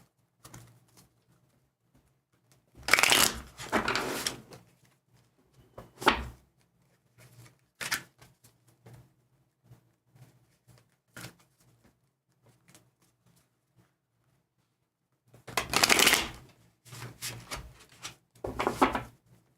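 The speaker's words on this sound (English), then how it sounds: "Let's do a couple more shuffles here." Short bursts of riffling and slapping tarot cards being shuffled, two main flurries separated by quiet gaps with a few soft taps, close and fairly quiet.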